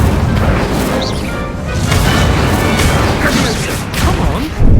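An Incendio fire spell cast in Hogwarts Legacy, a loud, dense burst of crackling, booming combat effects with whooshes and impacts throughout, voices faintly mixed in.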